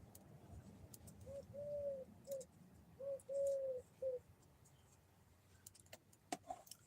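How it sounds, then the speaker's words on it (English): Pigeons or doves coo outdoors in a few soft, drawn-out phrases, moderately close but fairly faint over quiet background hiss, with a few faint clicks near the end. "I'll let you listen to some birds for a couple of seconds."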